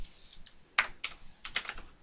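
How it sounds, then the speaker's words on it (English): Keys clatter on a computer keyboard during a game session, a few quick, sharp clicks in an uneven burst, close and clear with no talking. "Sean, I'm typing!"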